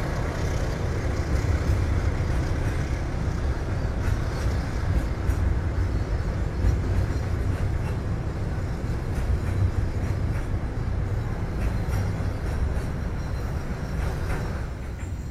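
A passenger train, the Blora Jaya, rumbles steadily into track 1 of a Semarang station, low and continuous, with faint rattling and squeaks over the drone as it rolls along slowly.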